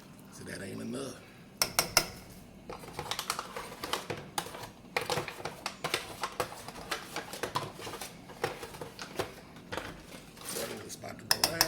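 A pan of okra handled while cooking Louisiana style, with clattering taps and scraping of utensils against cookware in irregular bursts, close and moderately loud.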